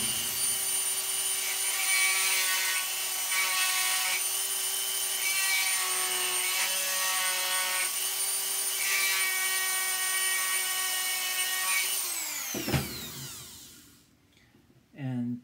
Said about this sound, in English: We have the power of the Dremel, and we'll just use that